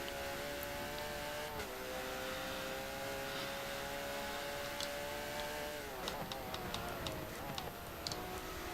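Race car engines in a racing video game, including a Lamborghini, droning steadily in the distance with pitch shifts as they brake and accelerate, then a sharper burst of ticking and clatter near the end.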